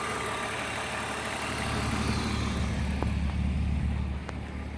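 A 1998 BMW M3 engine idles with a steady low rumble and even hum through an ANSA exhaust, with no talking and no revving.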